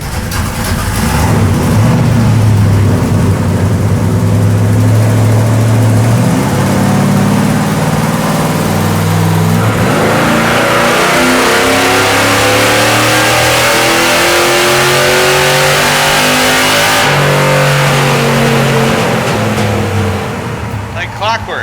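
Drag car engine making about 285 horsepower revs hard on an ice drag strip, a loud, rough roar climbing and falling in pitch, with people talking over it.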